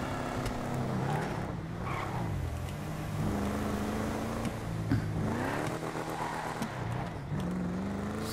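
A car engine in GTA 5 Online revs and accelerates hard as tires spin, pitch climbing and dropping through repeated gear shifts, loud and steady with no speech.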